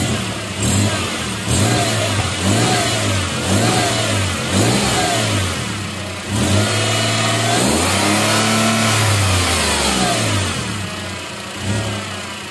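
Daihatsu Ayla 1.0 engine fitted with a racing manifold and downpipe, revved repeatedly in short rising and falling bursts from idle, loud and close with a raspy, slightly hissing exhaust edge and no talking.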